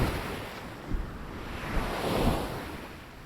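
Rough ocean waves churning around a black-rock lighthouse island at the far tip of Brittany, a continuous wash of surf with wind noise and a few soft swells rising and falling.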